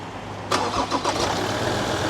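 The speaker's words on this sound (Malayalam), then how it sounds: "നമുക്കിനി വണ്ടി ഒന്ന് സ്റ്റാർട്ട് ചെയ്തതിൻ്റെ എൻജിൻ്റെ സൗണ്ട് കാര്യങ്ങളൊക്കെ എങ്ങനെയെന്ന് നോക്കാം" A Ford Endeavour SUV engine cranks and catches, then settles into a steady, close idle after a brief burst of starter noise.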